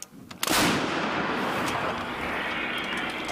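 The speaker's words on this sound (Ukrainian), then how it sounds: "звучить команда Вогонь. Гармата постріл." A single heavy artillery cannon blast booms out suddenly, followed by a long rumbling roar that lingers and echoes without fading much.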